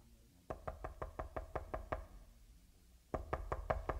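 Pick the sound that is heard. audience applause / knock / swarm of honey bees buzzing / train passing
knock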